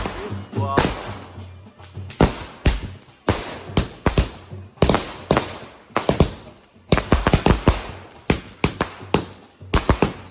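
Firecrackers, likely a 25-shot set, burst at a Bengali wedding outside the bride's house: a rapid, irregular string of sharp, close, loud cracks and thuds that runs almost without pause, with people talking through it.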